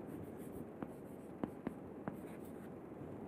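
Pen or chalk strokes on paper or board during a mathematics lecture, a few separate short scratchy marks spread over a steady room hum, fairly close and with no talking.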